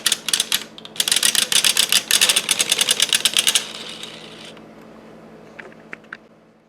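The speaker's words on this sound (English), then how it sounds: "And then finish knitting" Rapid rattling clatter of a carriage sliding across a 3D printed knitting machine, needles clicking in quick bursts over several seconds, then stopping, followed by a few isolated small clicks in quiet.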